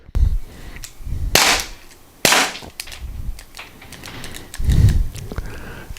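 A T4E HDR50/TR50 revolver loaded with custom ammo fires a string of sharp, close cracks with uneven gaps between them, each one a short loud snap.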